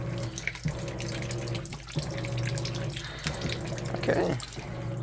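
A steady stream of water fills the tub of an Amana NTW4519JW2 top-load washer, a close, continuous rushing with a low hum beneath and faint splashes and small knocks every second or so.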